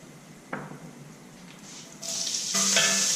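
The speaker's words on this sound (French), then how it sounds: "Ensuite, on va y incorporer les lardons." Bacon lardons dropped into a hot pan with fat where meat was just seared, starting with a soft clatter, then hissing that builds into a loud, steady sizzle over the final second.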